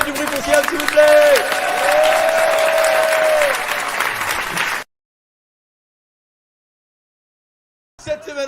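A comedy-club audience applauds and cheers in loud, dense clapping that lasts several seconds and then cuts off abruptly to silence, with a short burst of noise returning at the end.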